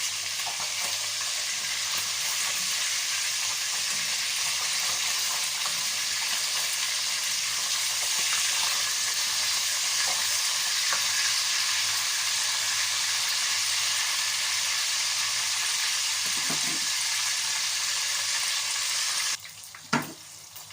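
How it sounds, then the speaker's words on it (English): Fish frying in a pan gives a steady, loud, continuous sizzle and hiss that holds unbroken for most of the time, then drops suddenly near the end after a brief clatter. "We're gonna like fry it, fish or whatever. That's how you're gonna fry it."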